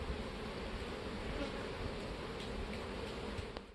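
Honeybees buzz at a hive, a steady close dense drone that holds evenly throughout without talk.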